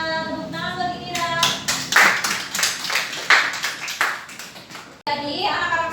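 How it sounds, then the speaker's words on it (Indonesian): Classroom applause for a primary-school student named Indira, with quick overlapping hand claps over several seconds, children's voices chattering around the clapping, and an abrupt cut near the end. "Tepuk tangan buat Indira."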